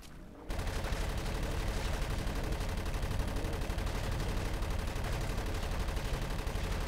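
A huge rifle with infinite ammo in Avatar: The Game firing nonstop, a loud, dense, continuous rattle of shots that bursts in after a brief quiet start and holds steady to the end.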